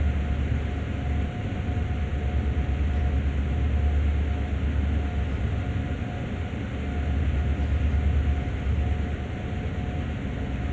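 Steady low rumble and rolling hum of a train getting up to speed in Train Sim World, a continuous loud drone with a faint tonal whine held throughout, no voices.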